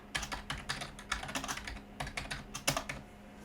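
Someone types on a computer keyboard, a quick, uneven run of about twenty close, crisp key clicks over a few seconds, followed by a brief pause and then a few final taps, with no talking.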